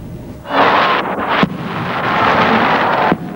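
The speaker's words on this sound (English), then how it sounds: "Nothing thrills more than spectacular displays of fireworks" Fireworks burst in a spectacular display, loud hissing crackles and booming pops overlapping in a dense roar with a couple of sharp reports.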